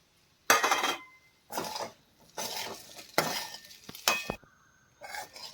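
Sago pearls are tipped into a pan and stirred, giving several scraping, rattling bursts of spoon against metal separated by short quiet gaps, fairly faint overall.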